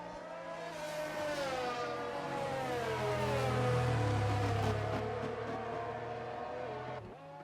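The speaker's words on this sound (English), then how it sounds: "the Aston Martin safety car is now out on track with the Red Bull of Shadow behind it" An Aston Martin safety car circles the Hungary track in a racing video game with a Red Bull car behind, its engine a loud, steady close drone with gently rising and falling pitch that cuts off abruptly near the end, no voices.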